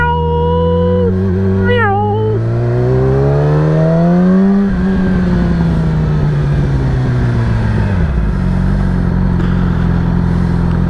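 An engine revs up through rising gears, drops back as the vehicle slows into a turn, then settles into a steady drone, loud and close throughout.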